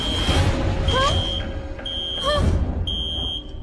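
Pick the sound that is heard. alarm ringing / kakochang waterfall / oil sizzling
alarm ringing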